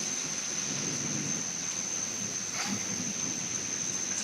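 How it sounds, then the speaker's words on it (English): Steady rain pours down during a thunderstorm in Pittsburg, Kansas, a constant dense hiss of drops on surfaces with a faint rumble underneath, no voices. "Getting some rain."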